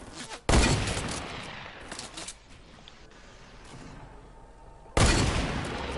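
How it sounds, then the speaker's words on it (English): Two loud, sharp hunting rifle shots in a video game, about four and a half seconds apart, each with a long ringing tail and a quieter stretch of rumble between them. "I want to get this guy with my hunting rifle"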